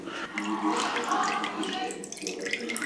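Water seeps and trickles through fabric coated with sanitary sealant, a close, uneven wet patter and dribble with a person speaking over it.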